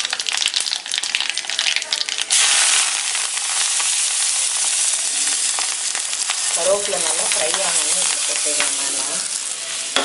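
Mustard seeds sizzle loudly in hot oil for a sambar rice tempering, a dense, close crackle that swells into a fuller hiss after a couple of seconds and carries on steadily to the end.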